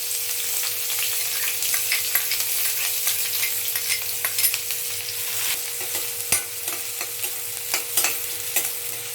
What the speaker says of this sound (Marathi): तेल तापलं, कांदा परतून घेऊया.